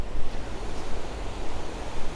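Ocean surf beside a small Japanese coastal town near a river, a steady rushing wash of waves with wind buffeting the microphone, loud and continuous with no voices.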